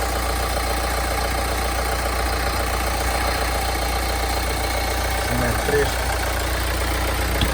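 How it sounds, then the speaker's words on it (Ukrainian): A 2013 Hyundai Santa Fe 2.2 diesel engine idles steadily with a low, constant rumble and faint knocking, running evenly without changes in pace. "Двигун працює рівненько."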